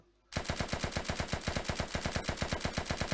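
Rapid automatic gunfire in the video game Unturned, from a USSR 1969 mod, a steady stream of sharp, evenly spaced shots, fairly loud and continuous with no talking.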